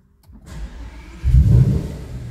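Audi RS5 with an unresolved fault starting up: a low rumble begins after a moment of silence, then surges into a louder, rough roar before easing slightly, close and without speech.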